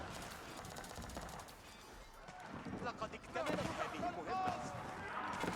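Hand cannoneers firing in the medieval strategy game The Raven's Oath, a dense crackle of gunfire bursts mixed with clashing battle noise, a caster talking excitedly over it throughout.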